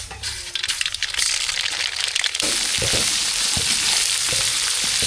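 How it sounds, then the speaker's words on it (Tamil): Mustard seeds hit hot oil in a pan while making mango, drumstick and brinjal sambar. A soft frying crackle jumps halfway through into loud, continuous close sizzling and spattering, with no talking. "எண்ணெய் நல்லா சூடாகிடுச்சு கடுகு சேர்த்துக்கலாம்"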